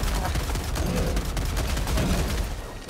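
Dense rapid gunfire fills a fight in the video game Helldivers, a loud continuous volley with rapid repeated shots.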